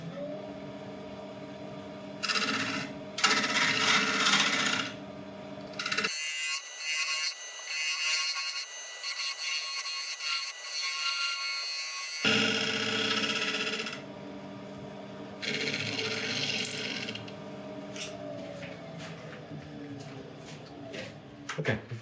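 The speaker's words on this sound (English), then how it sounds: "I'll let you watch a bit of the sanding" A jarrah burl and resin bowl is sanded on a running wood lathe: a steady tonal motor whine with hissing abrasive bursts that come and go, dropping to a thinner high hiss for several seconds midway.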